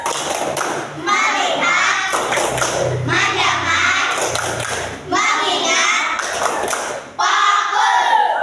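Children in a classroom do the rhythmic 'tepuk fokus' clap chant, a group of young voices chanting along with patterned hand claps and thumps, loud and close, with brief pauses between bursts.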